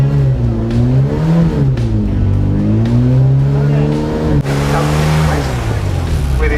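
A classic Mk1 Mini's engine revs at a speed trials noise test, a close, loud buzzing note rising and falling through several blips and holding high near the end, with no talk over it.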